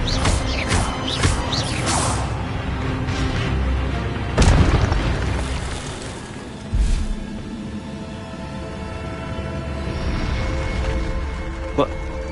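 Magic spell effects fire off in the video game Hogwarts Legacy: a series of whooshing bursts and a deep boom near the middle, over a steady game ambience, with a person talking through the sequence.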